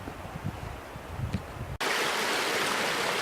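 River flowing beside a canal trail at Landsford Canal, a steady wash of moving water with some wind buffeting the microphone, continuous, with a sudden louder burst of rushing noise partway through.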